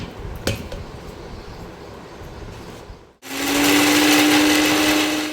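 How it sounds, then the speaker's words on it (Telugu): A kitchen mixer grinder grinding peanuts. After a few seconds of quiet room noise and a small knock, the motor kicks in with a loud, steady, high whirring drone that continues to the end. "ఇప్పుడు వీటిని మనము మిక్సీ పట్టుకున్నాం పల్లీలు ఇట్లు మిక్సీ పట్టుకుందాం"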